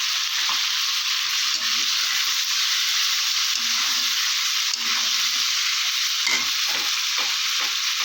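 Pointed gourds fry in a pan with a loud, constant bright sizzle, punctuated by soft low scraping stirs at intervals.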